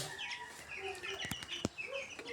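Soft, scattered clucks from a few local chickens kept among broiler chicks, with a sharper cluck partway through, over quiet farmyard background and occasional bird chirps.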